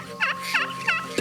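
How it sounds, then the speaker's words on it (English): Several Gould's turkey gobblers gobble in repeated bursts at roughly even intervals, loud and fairly close over a steady background, with no talking. "There's at least 2 gobblers gobbling."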